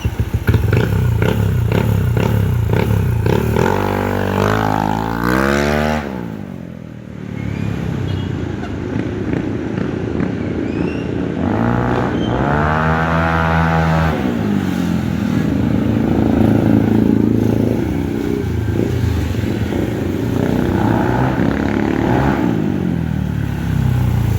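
A Yamaha Mio i 125 scooter engine, just back from valve and valve seal work, runs loud and close for the whole stretch, with a steady idle broken by a few revs and rattling clatter.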